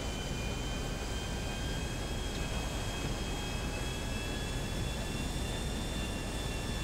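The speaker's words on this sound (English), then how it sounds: "it's gonna be a pretty smooth plane ride over there" An airplane flying in Grand Theft Auto V gives a dense, constant engine roar with a high steady whine on top, loud and close throughout with no talking.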